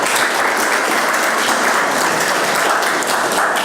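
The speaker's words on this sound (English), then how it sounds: "Garrafeira Soares, big applause for them." Steady, dense applause from a conference audience at a spirits summit, an even roar of many hands clapping throughout without pause.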